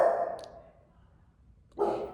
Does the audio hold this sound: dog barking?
yes